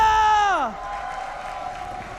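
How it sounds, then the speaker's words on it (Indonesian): At an esports arena during an MPL Indonesia match between Onic Esports and RRQ Hoshi, a crowd roars and cheers as a bright descending tone fades out, leaving a steady wash of distant cheering and clapping. "minta tepuk tangannya!"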